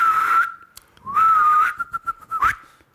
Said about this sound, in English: Oh, well, I'll just whistle and call my other horse.